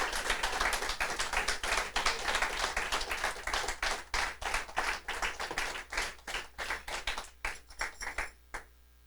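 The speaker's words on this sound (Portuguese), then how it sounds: "Você quer aplaudir? Pode aplaudir ao Senhor. Aplauda, agradeça a Deus." A congregation at a church service applauds, with loud steady clapping that breaks into separate sharp claps and fades near the end.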